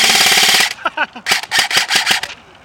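An ICS CXP 323 airsoft rifle fires on full auto, a loud close buzzing burst followed by several shorter rapid bursts outdoors at an airsoft field.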